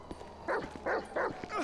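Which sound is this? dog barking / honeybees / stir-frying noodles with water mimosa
dog barking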